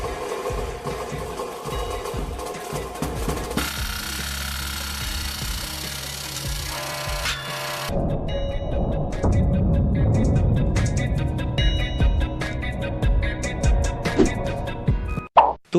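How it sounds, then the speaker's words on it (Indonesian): A hydraulic press crushes a diamond gemstone: a steady mechanical hum is followed by a louder, rougher grinding rumble, with a sharp crack or pop right at the end. "Namun, apa bisa dia menahan kuatnya mesin pres ini?"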